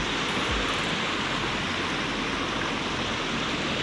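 Fresh forest stream water rushes steadily nearby, a dense, unbroken broadband wash like a small cascade.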